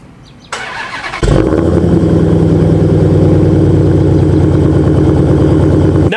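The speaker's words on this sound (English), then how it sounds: "I feel like this as a factory exhaust is just perfect" A Hellcat's engine with its factory exhaust fires up after a short crank, then settles into a loud, deep, steady rumbling idle, close by and with no voices.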